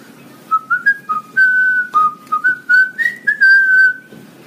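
A person whistles a short melodic tune up close, clear and loud, in a series of quick phrased notes with a few brief pauses, with no talk.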